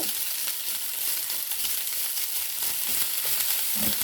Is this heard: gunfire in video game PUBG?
no